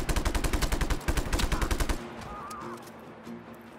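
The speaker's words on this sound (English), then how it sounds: "who is shooting at me?" Rapid automatic gunfire in the Just Cause 3 video game, a steady rattling stream of shots for about two seconds, then a quieter tail with faint game noise.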